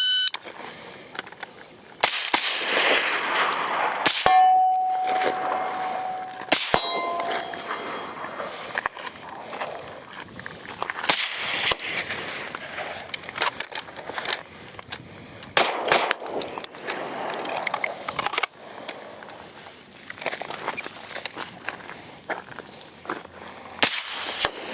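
IWI Carmel rifle shots ring out against steel targets at an outdoor range, a string of sharp reports with metallic clangs, some distant and some close, amid footsteps and shuffling.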